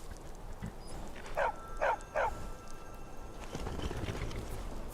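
Three quick, sharp barks from a dog in The Elder Scrolls V: Skyrim, evenly spaced and moderately distant over a low, rustling outdoor ambience, with no voices.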